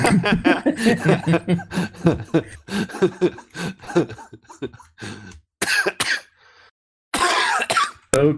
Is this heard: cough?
yes